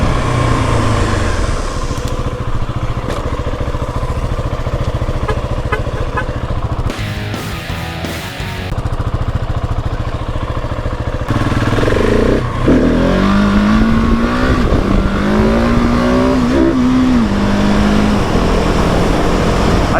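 A 2020 Husqvarna 701 SM single-cylinder supermoto accelerates hard during a wheelie, loud and close, the engine revving high, briefly dropping on a gear change, then rising again under sustained throttle.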